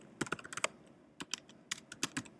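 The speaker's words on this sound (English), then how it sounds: "I'm just going to type it in here" Someone types on a computer keyboard in quick uneven bursts of clicking keys, heard close and fairly quiet with no voices.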